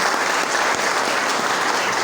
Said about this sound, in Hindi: सर के लिए जरूर चाहूँगा जोरदार ताली।